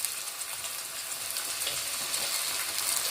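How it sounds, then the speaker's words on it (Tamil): Tomato and chilli sauce hitting a hot pan of sautéed capsicum, a steady loud sizzle and hiss with faint stirring, no voices. "இப்போ நம்ம வந்து டொமேட்டோ சாஸ் ஊற்றிக்கலாம் சில்லி சாஸ்"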